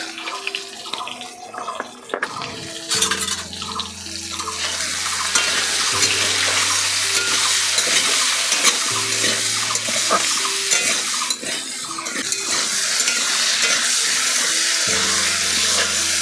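Vegetables fry in fish-frying oil in a wok with salt and turmeric, a loud steady sizzle filling the whole stretch, with occasional stirring scrapes and a low background hum.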